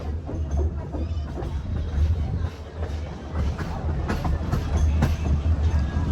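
A meter gauge train idles and rolls at Talala Junction, a continuous low rumble with rhythmic clatter and clicks, voices murmuring over it.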